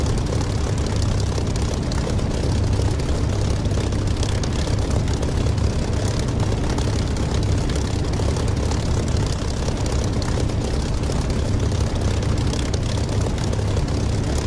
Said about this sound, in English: you might also hear the chug chug chug chug of my engine